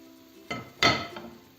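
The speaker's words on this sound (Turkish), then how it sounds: "Sonra kapağı kapatıyorum dikkatlice. Ve burada tavayı ters çevireceğim." A lidded frying pan of anchovies being turned over while frying them crisp gives two metallic clanks close by, a softer knock followed a moment later by a louder ringing clatter that fades.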